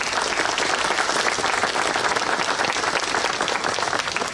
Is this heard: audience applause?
yes